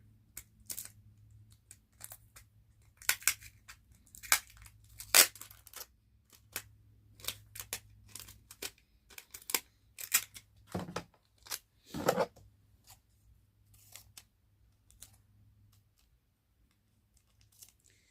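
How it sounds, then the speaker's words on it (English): Tape being pulled and pressed around the edges of a DIY candy pop craft, heard as scattered crisp tearing and crinkling bursts, close and fairly quiet, with no talking. "We're just going to put some tape around the edges here."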